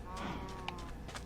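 Cows in the Minecraft video game give a short low moo, close and clear over a faint steady background, lasting about a second with no speech.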